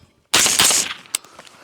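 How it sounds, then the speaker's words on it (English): Suppressed rifle with an SPR barrel fired a few times in quick succession: a loud burst of two or three sharp, muffled cracks followed by a fainter single report, with no talking. "So, suppressed, very first shots I shoot."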